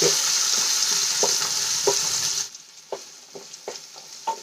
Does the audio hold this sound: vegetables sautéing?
yes